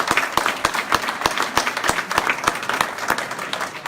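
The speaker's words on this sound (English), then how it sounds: "So one more big round of applause for them" An audience gives a big round of applause at a teacher of the year event, mixed clapping with several sharp, loud individual claps standing out close by over a steady background patter.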